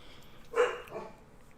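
A single faint, short yappy bark from a small dog somewhere in the distance, with quiet background noise before and after it.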